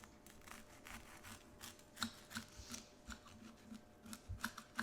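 A knife cuts through a homemade Cuban pork sandwich packed with pulled pork, giving quiet crunching and scraping strokes in an irregular rhythm, close and soft, with no talking.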